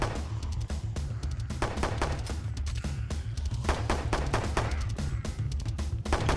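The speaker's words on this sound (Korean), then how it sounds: "총소리 듣고 온 건가?" Gunfire in a zombie shooter video game, Last Stand 2: rapid bursts of sharp shots repeat throughout over a constant low rumble, fairly loud with no talking.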